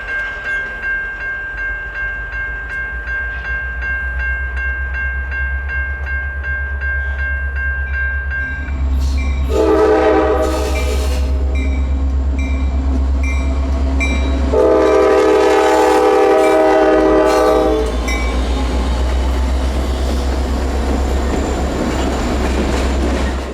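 A CSX and NS local freight train passes a county road crossing with a 34-year-old GP60 locomotive leading, its loud engine rumble steady throughout and two long, close horn blasts sounding over it.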